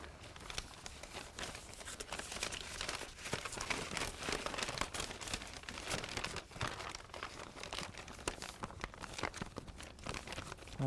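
A paper envelope is handled and sealed, with continuous close crinkling, rustling and light tearing-like scrapes that stay fairly quiet and unbroken for several seconds, with no voices.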